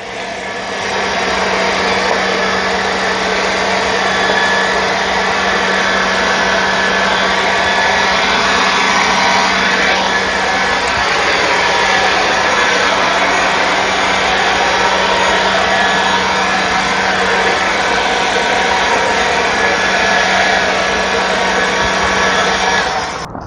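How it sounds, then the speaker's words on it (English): A Black & Decker 20V MAX cordless leaf blower sweeper running nonstop, a loud steady motor whine with airy rushing that holds even for over twenty seconds, close by and with no talk. "I'd say that the Black & Decker leaf blower won that battle."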